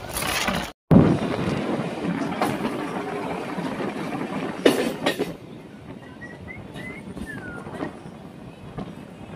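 A crowded local train on the Digha to Howrah line rumbles along with a steady, loud roar, broken by a brief dropout and a few sharp knocks before the noise settles to a quieter hum.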